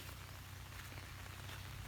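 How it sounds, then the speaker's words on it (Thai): Steady, dense rain hiss with a low rumble underneath, continuous and fairly quiet, with no voices. "นี่ฝนตก"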